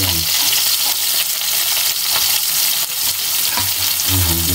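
Onions fry in a pan with a loud, constant sizzle, with faint stirring scrapes and a few clinks over it and no voices.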